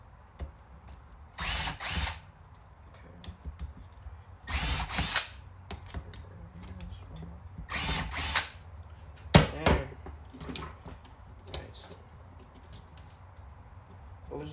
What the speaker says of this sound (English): And I'll use a screwdriver for this.